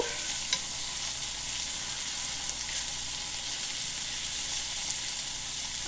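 A T-bone steak sizzles steadily in a hot cast iron skillet, a constant crackling hiss with occasional pops, close and moderately loud.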